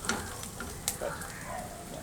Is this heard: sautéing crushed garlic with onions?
yes